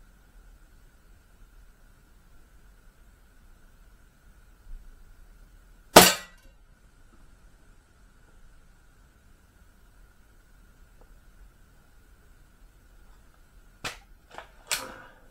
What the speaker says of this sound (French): J'aime bien ce mini-Uzi, la sensation qu'il procure quand on tire.